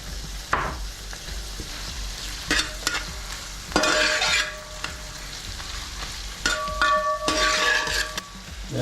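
Green chillies and capsicum frying in a pan: steady sizzle with repeated scraping stirs and occasional metallic clinks of a utensil against the pan, close by.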